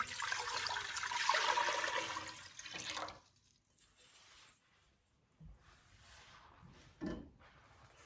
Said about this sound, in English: the first thing we're going to do is add our 3 pints of water